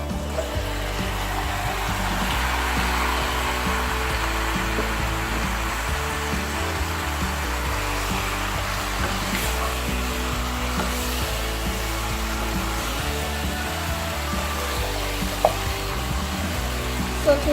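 Chicken meat frying in a pan for coconut curry gives a steady, loud, continuous sizzle with faint stirring scrapes throughout, no voices.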